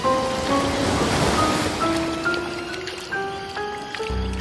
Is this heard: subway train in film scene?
no